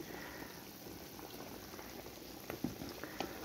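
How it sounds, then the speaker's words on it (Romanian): Lamb meat boiling in a cauldron, a steady bubbling simmer with occasional louder pops and splashes near the end, heard close and alone. "Carnea fierbe, trebuie să fiarbă bine până scade"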